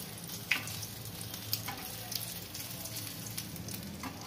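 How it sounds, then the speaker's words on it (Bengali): Egg-battered chicken pieces sizzle steadily in hot oil, a faint continuous crackle with a few soft pops and clinks heard close by. "সবগুলো আমি এক এক করে ভেজে নিচ্ছি"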